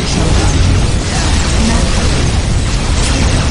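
Eldar Fire Prism cannons fire in the Dawn of War: Soulstorm video game, a loud, continuous barrage of booming blasts and mechanical bursts that fills the whole stretch without pause.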